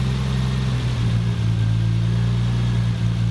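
A Triumph TR6 engine, converted from carburettors to Patton Machine fuel injection, idles loud and close with a steady low rumbling hum that holds an even pitch throughout.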